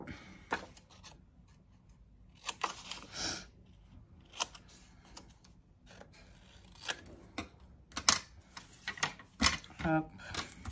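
Paper ends cut at a bevel with scissors while making a paper bag, a series of short, crisp snips in quick bursts, close, with someone talking between cuts.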